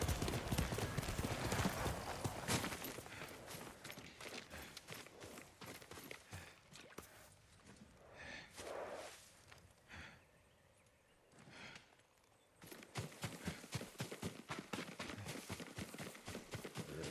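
Rhythmic horse hoofbeats clop along a path in the video game Ghost of Tsushima, then slow, fade and pause before a quicker run of hooves returns close by, with no talk.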